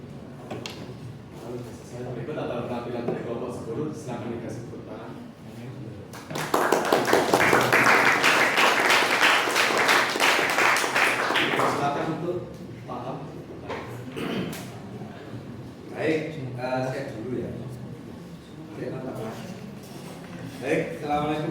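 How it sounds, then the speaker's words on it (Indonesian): Classroom audience applauding after a student group presentation, a loud burst of clapping lasting about six seconds between stretches of talk and room noise. "Silakan dikasih tepuk tangan."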